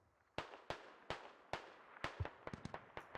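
Rocket salvo launching in Arma 2: Operation Arrowhead, a string of sharp, loud blasts, spaced at first and then firing in quicker succession, each leaving a short decaying tail.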